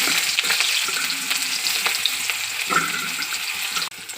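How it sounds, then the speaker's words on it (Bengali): Chopped onion fries in hot oil with cardamom in a wok, giving a dense, close crackling sizzle with small stirring pops throughout and a short dip near the end. "দিচ্ছি পেঁয়াজ কুচি,"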